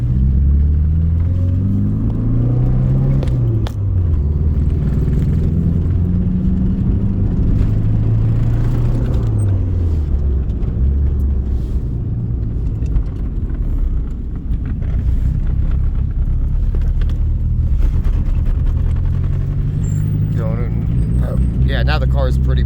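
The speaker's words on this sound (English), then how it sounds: "So it is misfiring right now pretty bad" A car engine misfiring badly in a running vehicle, a loud rough rumble with wavering pitch and uneven stumbles, while someone talks over it throughout.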